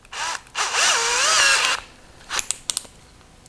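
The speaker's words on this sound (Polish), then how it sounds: "jest to wiertarka, ale żaden problem, żeby pracować tym jako wkrętarka" A Bosch GSR 12V-35 Professional cordless drill-driver whirs up in two bursts, the second longer with rising and falling motor pitch, then a few sharp clicks and taps follow.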